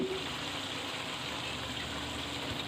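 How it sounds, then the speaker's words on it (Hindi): Drained tinned mushrooms go into beef mince cooking in a pan with a little liquid, producing a steady, fairly loud broadband sizzle and hiss that runs unbroken throughout. "इस स्टेज पे इसके अंदर ये मैं मशरूम्स डाल रही हूँ।"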